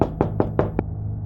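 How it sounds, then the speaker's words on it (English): Five firm knocks on a front door, evenly spaced and close, heavy and resonant, with the last one slightly softer, then silence. "someone knocked at the front door"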